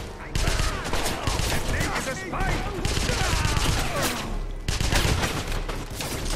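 Dense, continuous gunfire rattles in Wolfenstein, loud and close with rapid overlapping bursts and short breaks, under faint game sounds.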